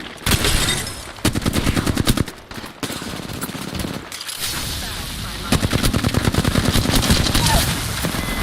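Gunfire in the video game Apex Legends: long, loud sustained automatic bursts with rapid even shots, broken by brief gaps, continuing for most of the stretch with some game voice lines beneath.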